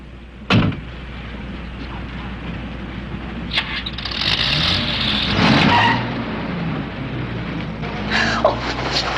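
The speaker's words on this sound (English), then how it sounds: "That's his car." A car engine revs and pulls away at moderate distance, with a sharp thump at the start and rising motor noise and tyre sound through the middle, fading toward the end.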